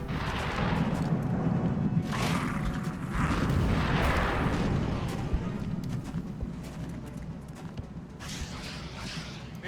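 Sustained gunfire and heavy impacts during a firefight in the strategy video game XCOM, loud and dense with repeated bursts and booms throughout, a voice briefly speaking over it.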